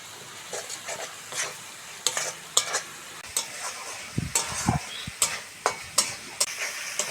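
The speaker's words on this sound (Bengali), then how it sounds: "মশলাটা ভালো করে কষে নেব" Spice paste with salt being stir-fried in oil until the oil separates, a constant sizzle broken by repeated sharp spatula scrapes and knocks against the pan, close and fairly loud.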